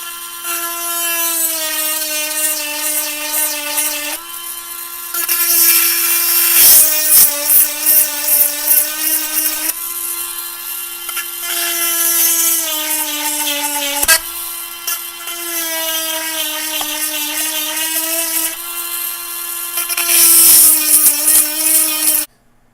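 A 12 V chainsaw sharpener grinds chainsaw teeth in a steady high-pitched whine, with a series of short grinding passes and brief pauses between them, close and loud with no talk.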